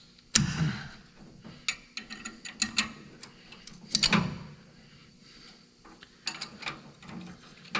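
Vice grips clamp and twist at a stubborn nut on a car's rocker panel area, producing scattered metallic clicks, scrapes and clanks at close range in irregular bursts.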